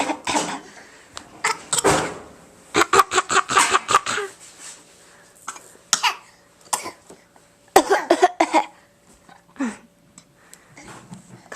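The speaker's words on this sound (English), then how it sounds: "are you coughing?" A child coughs in several short bursts, with clusters of harsh coughs separated by pauses and some small household knocks in between, nearby in a quiet room.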